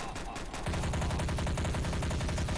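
Rapid automatic gunfire in Trouble in Terrorist Town, a fast, loud, regular burst of shots that kicks in after about half a second of background noise and carries on to the end.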